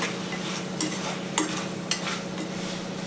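Chicken pieces for biryani sizzle steadily in hot oil while a utensil stirs them, with a constant frying hiss and a few sharp scraping knocks against the pan.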